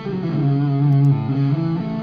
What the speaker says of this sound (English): So most of what you're hearing, I think, is the delay.